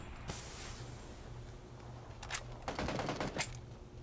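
Faint, distant bursts of SCAR rifle gunfire in the PUBG video game, a couple of short rapid volleys over a steady background hum.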